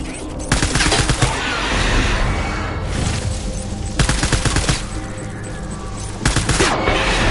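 Repeated bursts of gunfire crackle through a firefight in Death Stranding's final chapter, loud rapid volleys clustering around the start, middle and end against a steady rumbling backdrop, with little talk.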